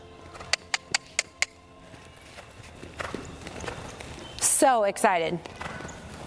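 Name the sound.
horse hooves clip-clopping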